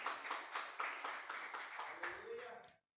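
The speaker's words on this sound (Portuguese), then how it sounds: "Aplauda o Senhor em nome de Jesus." A church congregation claps together in a steady, rhythmic beat, fairly close and full-sounding, keeping time for a few seconds before the clapping stops abruptly.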